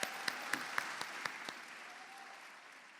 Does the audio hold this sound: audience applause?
yes